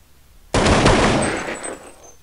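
Loud burst of automatic gunfire in Counter-Strike 1.6 on the de_tuscan map during a 5v5 match, starting abruptly and rattling for nearly two seconds before trailing off into echo.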